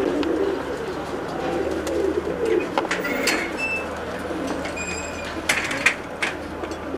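Special female pigeons coo in low, throaty bursts nearby, with scattered light clicks and rustling from the birds moving about.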